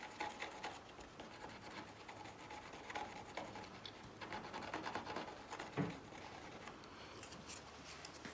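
Faint steady scraping as gooey resin residue is worked off a surface, a soft continuous rasping rub with small irregular strokes and one brief louder knock near the end, no talk.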